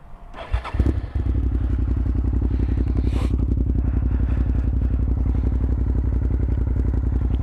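A Cagiva Raptor 650 V-twin motorcycle with the exhaust baffles pulled out starts up after a brief crank and a few clunks, then settles into a loud, steady, lumpy idle close by.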